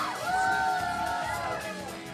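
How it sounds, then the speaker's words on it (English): A crowd at a DDR dance game tournament cheers and whoops steadily, a broad roar of voices with some shouts rising above it, moderately loud and sustained throughout. "Big crowd cheer coming in"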